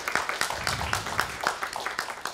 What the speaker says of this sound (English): let's give them a round of applause to everyone